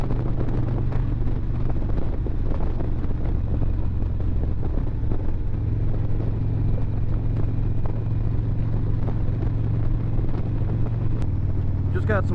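Steady wind buffeting mixed with a low engine drone while a motorcycle is ridden, loud and continuous throughout, with no talking.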